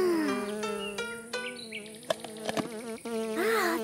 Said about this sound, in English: Oh, it's a bee!